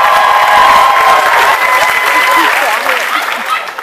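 Audience at an a cappella concert under the Big Top Chautauqua tent in Bayfield, Wisconsin breaks into loud, sustained applause mixed with cheers and whoops, with some voices shouting through the clapping until it begins to taper.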